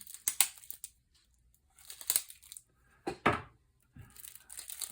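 Cardboard and plastic packaging of a Magic the Gathering Final Fantasy Commander deck box being cut and torn open, several short crinkling, ripping bursts separated by quiet gaps, close up with no talk.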